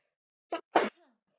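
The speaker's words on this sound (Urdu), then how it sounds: "چھین کا جواب دینا چاہیے، یرحمک اللہ." One person sneezes in a quick two-part burst, a short sharp intake and then a louder explosive release, close by in an otherwise quiet room.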